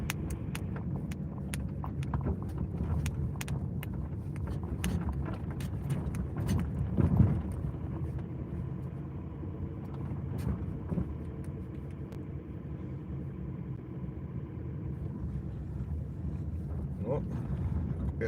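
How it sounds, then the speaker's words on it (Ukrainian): Road noise inside a moving car, heard as a steady low rumble and wind buffeting with occasional clicks and bumps, while someone talks over it throughout. "просто зараз їду на машині"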